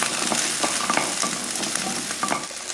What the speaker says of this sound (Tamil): இதையும் நல்லா வதக்கிடுவோம்